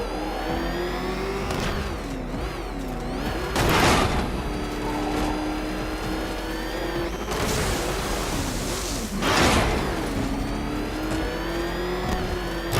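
The Batmobile's engine in Batman Arkham Knight whines and rises in pitch as it accelerates, with two loud revving surges standing out over a continuous mechanical hum.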